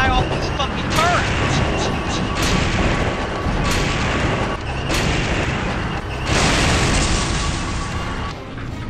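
Ninja Gaiden Sigma gameplay in which gunfire is aimed at an enemy on a vehicle turret, with repeated heavy booming shots and blasts over a dense, continuous roar of combat noise, with voices heard over the action.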